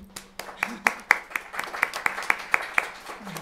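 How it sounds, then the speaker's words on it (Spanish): Sparse applause at the end of an academic conference talk: sharp hand claps at a steady, even rhythm, about a dozen in a row, close by with a low hum underneath. "Otro aplauso"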